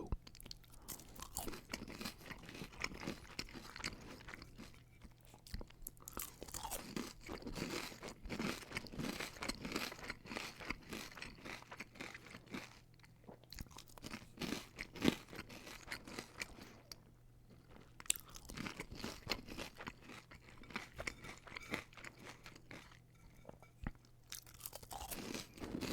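Crunchy Burger King hash browns being chewed up close, a series of loud, crisp crunches and bites in irregular bursts with short pauses between, no talking.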